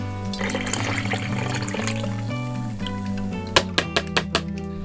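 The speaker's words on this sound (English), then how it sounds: "take your metal sieve and then just strain it through" Coconut milk is strained through a metal sieve, giving a steady close pouring and trickling of liquid with a humming tonal background, ending in a few quick splashy drips.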